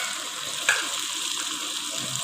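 A steady, close sizzle of a tadka of salt, chilies, turmeric and ground coriander frying in hot oil, a bright continuous hiss with one brief louder crackle early on.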